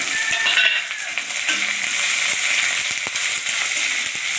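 Sliced onions dropped into hot mustard oil with mustard seeds sizzle and crackle steadily, a loud continuous frying hiss close to the pan with no talking.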